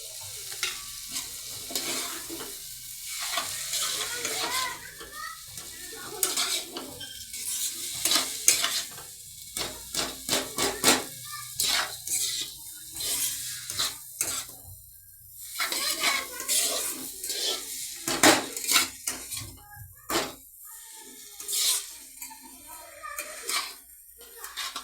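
Maggi noodles tipped into a pan and stirred, with repeated scraping and clattering strokes over a soft sizzle, fairly close and steady throughout with no talking.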